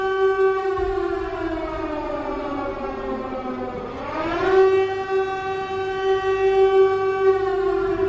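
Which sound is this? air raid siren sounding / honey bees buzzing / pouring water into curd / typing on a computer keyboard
air raid siren sounding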